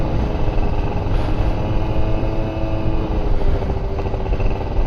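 Motorcycle without fairings running steadily on a test ride, a continuous loud engine drone with no speech over it.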